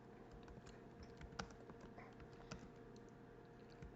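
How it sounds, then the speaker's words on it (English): Someone types on a computer keyboard, entering a title while formatting a document, with soft, quiet, irregular keystrokes and a few sharper clicks over low room hiss and no talking. "here you can just type in your title"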